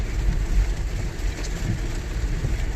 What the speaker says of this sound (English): But it's raining really heavy over here.